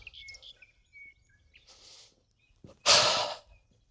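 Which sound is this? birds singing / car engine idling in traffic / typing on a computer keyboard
birds singing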